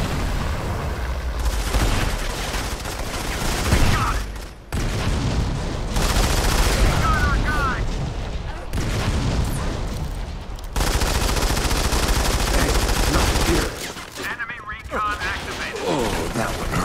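Dense bursts of rapid gunfire and explosions from the video game Modern Combat 5, coming in several long volleys with brief gaps, loud and close.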